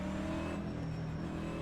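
NASCAR Cup car engine in the iRacing video game at the Nürburgring, a steady, low, droning engine hum with a faint high whine, fairly quiet and continuous with no talk.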